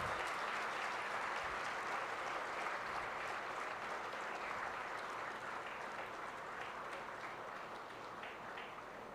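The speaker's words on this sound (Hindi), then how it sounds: "उनके लिए भी जोरदार तालियों से स्वागत करें" A large audience at a formal ceremony gives sustained, dense applause in welcome for the district SSP, steady and fairly distant, fading slightly toward the end.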